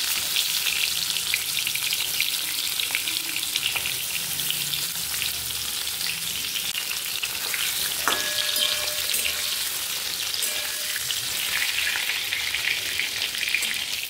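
Pieces of pointed gourd sizzle and crackle in hot oil in a home kitchen, a loud, dense, continuous frying hiss with occasional pops and stirring clinks, no talking.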